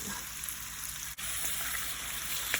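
Potatoes sautéing on low heat in a covered-to-be pan give a steady, close sizzle and light crackle, with a brief dip in the middle and a small clink near the end.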